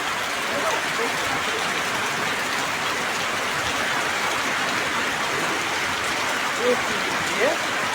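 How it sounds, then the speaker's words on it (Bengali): Heavy monsoon rain pours steadily over a Bangladeshi village, a dense, even roar of drops on surfaces that stays loud and unbroken throughout, with a couple of faint brief sounds near the end. "ধুমা বৃষ্টি হচ্ছে এখন"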